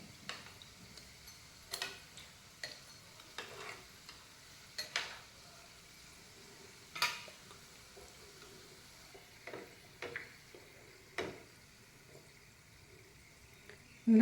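Vegetable cutlets fry gently in a pan, giving a faint, low sizzle broken by scattered small pops and ticks at irregular intervals.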